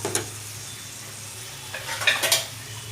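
Salted tomatoes cooking in a pan, a few stirring scrapes and spoon-against-pan clinks over a low sizzle, with a louder cluster of scraping toward the end.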